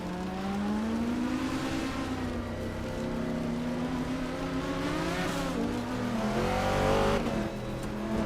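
A 1970 Ford Mustang Boss in a racing video game, its engine droning and revving steadily with rising and falling pitch as it accelerates, loud and continuous, with a sharper surge near the end.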